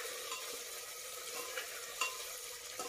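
Khichdi is stirred in a pan over a soft, steady sizzle, with faint scraping strokes and an occasional light knock of the spoon, quiet and close.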